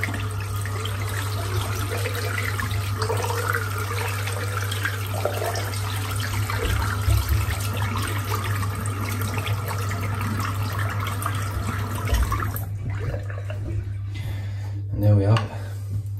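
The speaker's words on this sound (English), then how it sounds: "Rinse the soap out." Water runs steadily from a tap while a boar-bristle shaving brush is rinsed of shaving soap, a continuous close wash of flowing water with faint clatter, cutting off near the end.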